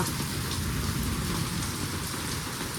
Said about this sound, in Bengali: গাইস দেখো কত বৃষ্টি পড়ছে, দেখো এই একটু আগে বৃষ্টিটা এলো।